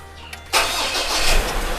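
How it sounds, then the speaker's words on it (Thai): After a brief quiet hum and a click, a Ford engine fitted with a boost gauge cranks and catches with a sudden roar, then settles into a steady, close running rumble. "นี่ผมสตาร์ทเครื่องยนต์นะครับ"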